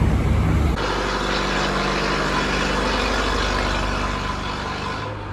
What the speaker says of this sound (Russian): Вот это так громко, это не грузовик, это так громко работают генераторы.